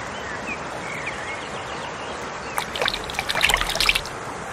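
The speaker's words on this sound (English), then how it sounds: "you can fill the flask in the river" Water trickling and splashing as a flask is filled from a river in the Safari Adventures Africa video game, a brief burst of liquid gurgles near the end over a steady ambient hiss.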